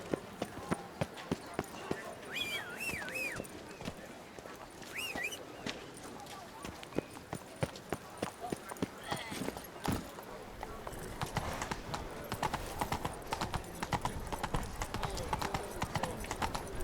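Horse hooves clip-clopping at a walking pace in The Witcher 3: Blood and Wine, set in Beauclair, a steady rhythmic clatter with bird chirps and game ambience around it.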